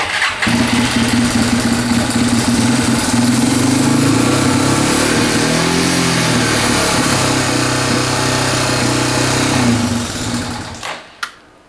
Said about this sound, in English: turn the bike on, switch it to start, and pull the clutch in and give it a crank